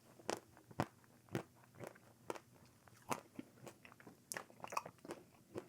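Crunchy bites and chewing of a chocolate, granola and honey smoothie bowl with popping boba, a steady series of sharp, close crackling crunches with no talking.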